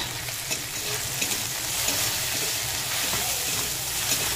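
Chili and turmeric powder fry in hot oil for an egg dish, a loud, dense, continuous sizzle with soft stirring underneath, close and steady with no talk.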